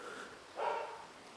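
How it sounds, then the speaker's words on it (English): Dogs somewhere outside a building bark in a brief, muffled burst partway through, distant and faint against steady background noise. "you can hear there's dogs barking around"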